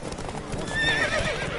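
Hooves clip-clop as a horse gallops in a race in The Witcher 3, then a high neigh rings out over the hoofbeats, close and fairly loud, with a voice nearby.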